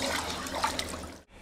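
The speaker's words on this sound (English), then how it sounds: "then quickly cooled in cold water" A blade heated to 800 degrees Celsius and quenched in cold water, giving a loud close hissing, rushing burst of water and steam that cuts off abruptly near the end.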